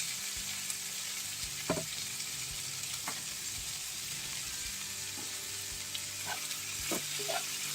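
Vegetables sizzle steadily in a hot pan, with occasional light clicks of stirring over the constant frying hiss.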